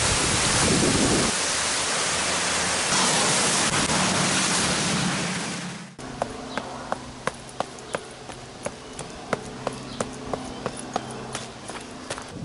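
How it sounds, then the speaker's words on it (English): Steady rain pours outdoors at a Calgary Stampede pancake breakfast, a loud broadband hiss for about six seconds, then eases into sparse, sharp drips and taps over a quieter background. "Sometimes it rains in Calgary."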